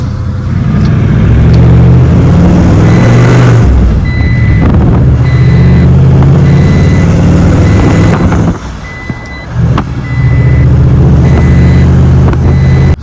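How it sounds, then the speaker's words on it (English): A truck engine runs loud and steady on a farm, with the deep rumble filling the whole stretch while a repeating reversing beep chimes above it and briefly cuts out near the end. "Listen to the sound of this truck."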